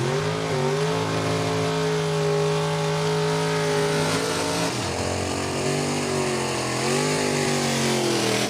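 Door car drag racers launching, a loud sustained engine roar with climbing pitch and a sharp shift around the midpoint, steady and close.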